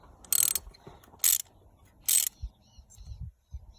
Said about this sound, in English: you'll go ahead and put your ratchet on